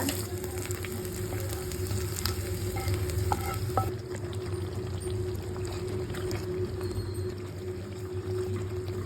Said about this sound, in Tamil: அதில் ஃபைனலாக வெங்காயம் வதக்கி கொட்டிக்கலாம்